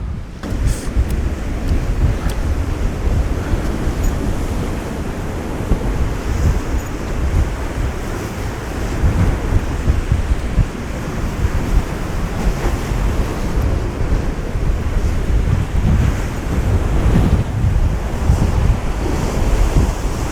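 Strong wind batters the microphone while sea waves crash and surge steadily along the Latvian coast after a storm, a loud, continuous roar with no speech.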